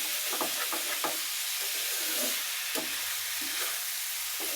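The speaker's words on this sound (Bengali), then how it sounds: "এই যে আজকে আলু ভাজি করা হচ্ছে।" Potatoes frying in hot oil for aloo bhaji, a steady close sizzle broken by several stirring scrapes and knocks of a spatula in the pan, with no talking.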